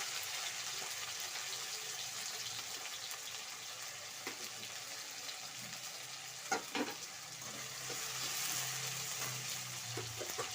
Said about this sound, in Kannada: ಇವಾಗ ಬೆಳ್ಳುಳ್ಳಿ ಶುಂಠಿ ಪೇಸ್ಟು, ಈರುಳ್ಳಿ, ಚೆನ್ನಾಗಿ ಫ್ರೈ ಆಗಲಿ